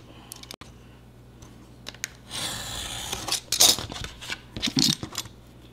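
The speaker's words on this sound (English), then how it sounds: "And then I'm just going to cut this off." Material for a tiny bookshelf is cut with a blade, a dry scraping rasp up close in several short strokes after a few quiet taps.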